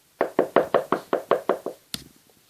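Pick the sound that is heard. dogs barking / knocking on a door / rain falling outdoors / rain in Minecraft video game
knocking on a door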